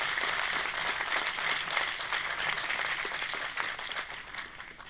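An audience applauds and claps thunderously after a declamation debate on Kashmir, a dense, steady wash of many hands that holds loud for the whole stretch with no voices over it.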